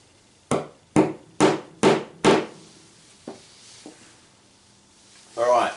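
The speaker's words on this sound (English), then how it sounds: "put a nail in place and hammer it down" Five sharp hammer blows drive a nail through a fox skin being pegged out for tanning, struck in quick even succession, followed by two lighter taps and a brief rustle at the end.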